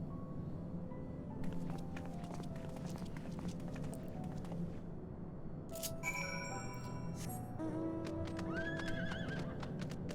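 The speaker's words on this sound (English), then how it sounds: "Excuse me while I ride a horse inside your house." A horse ridden in the video game Final Fantasy XIV: rhythmic clip-clop hoofbeats with neighs and whinnies, plus game chimes and effects layered over a steady background; no talking.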